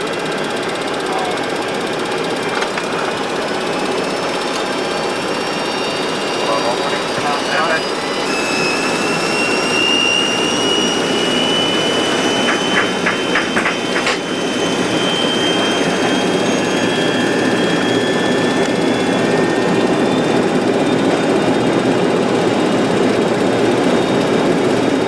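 Jet engines of a Boeing 737-200F freighter spooling at takeoff thrust, a loud, steady roar with rising whine tones heard from the cockpit, with crew talk over the engine noise.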